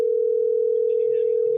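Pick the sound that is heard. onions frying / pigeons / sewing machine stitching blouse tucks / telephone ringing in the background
telephone ringing in the background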